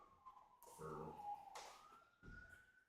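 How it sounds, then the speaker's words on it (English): A siren wails faintly in the distance with a slowly rising tone, under a few nearby knocks and shuffling sounds. "You hear the sirens?"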